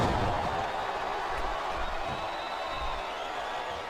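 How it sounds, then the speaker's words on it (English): Simulated wrestling arena crowd from WWE SmackDown vs Raw 2007, a constant broad murmur and roar from a large audience with low rumbling swells, steady throughout. "Sounds like this crowd's got something on their minds, King."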